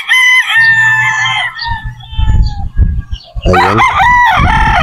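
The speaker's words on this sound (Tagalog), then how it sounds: "Ito kasama po ito yung brood stag natin na Boston Roundhead." Boston Roundhead brood stag roosters crowing loudly and close, several long harmonic crows overlapping, with a voice speaking briefly between them.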